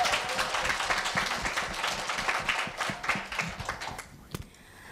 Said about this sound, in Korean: 마지막 발표를 뜨거운 박수로 맞이해 주시기 바랍니다